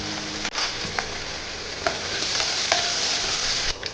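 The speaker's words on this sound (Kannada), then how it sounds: "ಸಾಸಿವೆ ಜೀರಿಗೆ ಸಿಡಿದ್ಮೇಲೆ ಹಸಿ ಶುಂಠಿ ಮತ್ತು ಗೋಡಂಬಿನ ಸೇರಿಸ್ಕೊತಿದ್ದೀನಿ." Ginger and cashews fry in hot oil with spluttering mustard seeds and cumin, a steady close sizzle broken by a few stirring scrapes and light pops.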